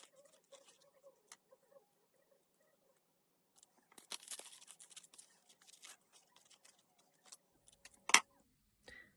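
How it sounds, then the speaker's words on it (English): Scissors snipping out small green paper shapes for a toddler's caterpillar craft, quiet intermittent cuts that come in a brief cluster, then a single louder snip near the end, with no talking. "And then we just need to cut these out."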